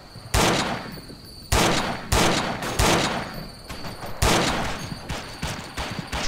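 Repeated bursts of gunfire in the World War II shooter game Forgotten Hope 2, on the Ste Mere Eglise map: loud, sharp volleys and fusillades in close succession, each burst tailing off before the next, with no talk.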